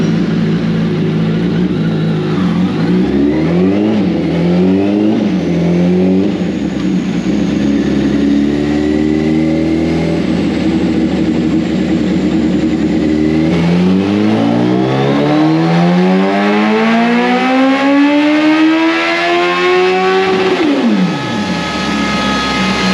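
A 2006 Limited Edition Hayabusa motorcycle engine revs hard on a dyno pull, loud and close, climbing steadily through the gears and winding up to a high scream before abruptly dropping off.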